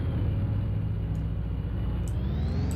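A car engine in the Roblox game Prison Life gives a loud, continuous low rumble like a lawnmower, droning steadily with a slight shift in tone partway through and no talk over it.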